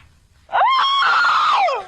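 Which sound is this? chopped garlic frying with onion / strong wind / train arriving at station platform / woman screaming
woman screaming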